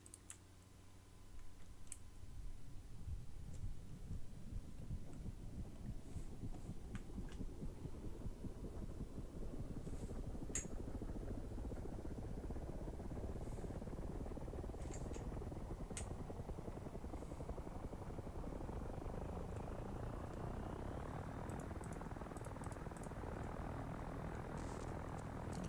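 AH-6J helicopter in DCS starting up: engine whine climbs steadily as the rotor spools, building into a loud, continuous thumping drone, with sparse clicks scattered over it.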